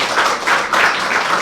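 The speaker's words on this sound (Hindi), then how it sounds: "आपकी तालियों की गूंज है।" An audience at a Thalassemia World Day welfare event claps in a dense, steady wave of applause, loud and sustained across the whole short stretch.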